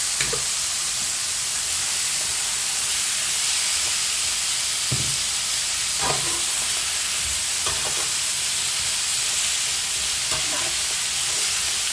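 Pointed gourd pieces sizzle and fry steadily in spiced masala in a pan, a loud continuous hiss with occasional stirring clinks and scrapes, with no talking.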